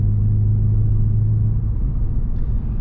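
Big-turbo VW GLI running on a dyno, a loud steady engine drone with a deep low hum that holds for a moment and then turns rougher, close and continuous with no one talking.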